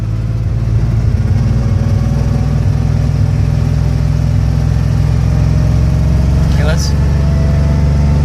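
A manual stick-shift car's engine holds a steady, loud mid-pitched hum from inside the cabin, rising slightly as it gains speed, with a driving instructor talking over it.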